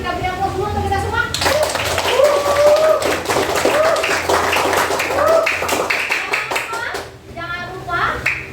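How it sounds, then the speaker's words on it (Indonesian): A classroom group applauds together during a project-based learning lesson, a sustained burst of hand clapping that rises quickly and holds for several seconds, with children's voices and cheering mixed through it before it fades out. "Kita beri aplaus dulu untuk kita semua"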